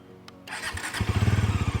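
A Bajaj Pulsar NS400 motorcycle cranks and fires up at close range, then settles into a rapid, throbbing idle with a pulsing exhaust beat.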